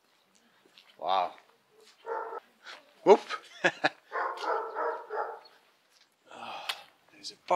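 A dog in the old quarter near Erbil's covered bazaar barks and yips in short bursts at mid distance, with whining tones between them, while a voice speaks nearby.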